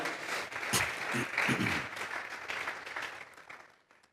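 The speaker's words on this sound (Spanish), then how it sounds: "Vamos a regalarle ofrenda de palmas al Dios de la gloria." A church congregation claps together in a dense burst of applause that swells and then fades out over about four seconds, with some voices mixed in.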